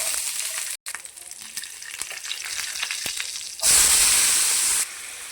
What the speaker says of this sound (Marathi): यानंतर लसूण आणि टमॅटो फ्राय करून घेऊया.